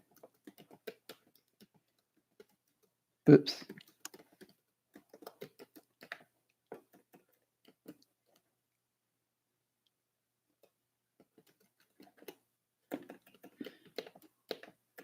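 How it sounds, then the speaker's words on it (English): Someone types on a computer keyboard in bursts of light, close clicking keystrokes with pauses between, fairly quiet, and a brief word is spoken partway through. "I'm typing it."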